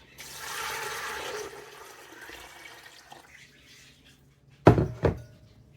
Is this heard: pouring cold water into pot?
yes